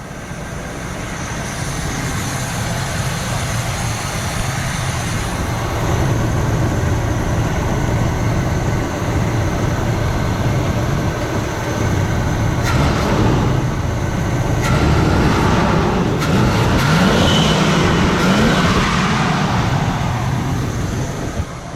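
Steady low rumble of a 1982 Camaro Sport Coupe engine running close by, rising in a handful of brief throttle blips in the second half against a constant idle and light wind noise, with no talk over it.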